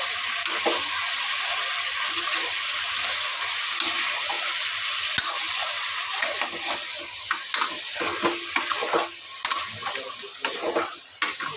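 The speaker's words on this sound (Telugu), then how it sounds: "ఒకసారి అయితే బాగా కలిపేస్తాను మటన్కి ఉప్పు కారం పట్టుకునేలాగా" Mutton coated with salt, chili powder and turmeric is stirred in a pan, making a continuous frying hiss with frequent scraping and clattering strokes that grow busier toward the end.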